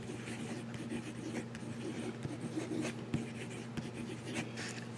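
A Fuliwen Silver Lion fountain pen with a fairly wet nib writes quickly on paper, giving a steady, soft scratching that runs close and continuous for several seconds with no talking.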